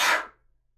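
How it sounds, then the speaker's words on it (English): A single close sneeze from a man, a sharp breathy burst lasting a fraction of a second that fades quickly into near silence. "I'm gonna sneeze."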